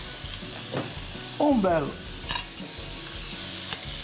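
Boiled pasta being sautéed in a frying pan gives a continuous sizzle, close and steady, with brief stirring scrapes and a short spoken word over it.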